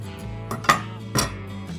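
Metal utensils knocking and scraping against a pan or plate while cutting into a meaty, cheesy smoked dish, a few distinct clinks over a low steady background hum, no talking.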